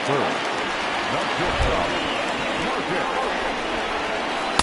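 Steady rain falling on a wet baseball field during a Detroit Tigers at Oakland Athletics game, a constant broadband hiss of downpour with crowd babble mixed faintly underneath.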